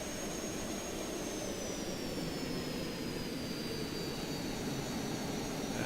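Jet-style airplane engine roaring steadily during takeoff in the video game Just Cause 2, a loud, continuous broadband rush with a high whine gliding slowly downward, with no voices.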